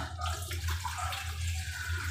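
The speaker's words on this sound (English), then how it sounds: "that is when you add water" Water pours faintly into a pot for cooking mac and cheese, making a soft, steady splashing rush over low background hum.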